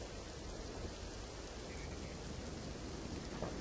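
Heavy monsoon rain falls over Surat district in Gujarat. A dense, steady hiss of downpour holds evenly throughout at a moderate distance, with no voices.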